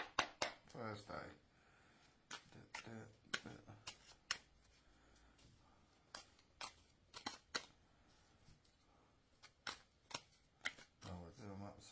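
Tarot cards being shuffled and handled, a quiet run of soft, quick riffling bursts and crisp snaps, with a person talking between and over them.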